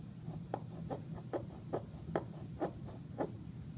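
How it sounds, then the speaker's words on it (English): A pencil compass scratches arcs on paper in a geometry construction, about eight soft, evenly spaced graphite strokes, quiet and close, with no voice. "and I draw another arc"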